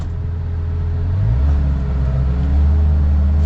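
Engine of a 2025 Kawasaki Ridge Crew side-by-side driving in low range, a loud steady low rumble that rises in pitch as it pulls away, with no talk.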